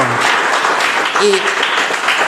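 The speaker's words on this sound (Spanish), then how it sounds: "Vamos a dar un aplauso al Señor." Steady applause from a church congregation fills the clip, a dense continuous patter of clapping with a faint voice briefly audible underneath.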